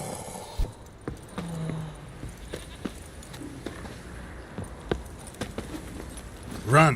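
Rhythmic hoof clip-clops of the horse Roach galloping in The Witcher 3: Wild Hunt, a quick series of thuds under game ambience, ending in a short loud burst.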